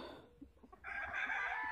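A large, older Morgan Whitehackle rooster crows partway through, a loud, sustained call breaking out after a few soft farmyard clucks and rustles.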